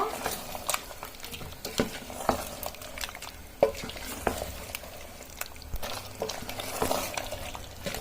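A spoon stirs garam masala into thick beef halim in a pan, producing soft repeated scraping and squelching strokes over a faint sizzle, close by and fairly quiet, with no talking.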